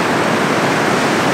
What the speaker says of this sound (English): how high the water is as it's coming pouring across it